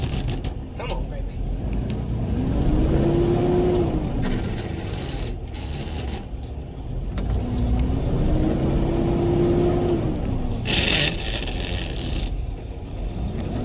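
A truck's engine revs in two swelling surges while the driver struggles to get a manual gearbox into first with the clutch still spinning, with mechanical clunks and a brief hiss near the end.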